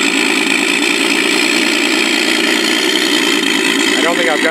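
The electric motor and propeller of an FMS 1400 mm T-28 Trojan RC plane run at a steady high-pitched whine, loud and close, holding constant throughout.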